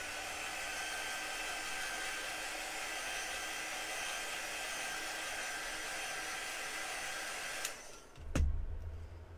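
A handheld dryer blows steadily and close by for several seconds while it dries chalk paint on a craft decor piece, then it clicks off and a short thump follows.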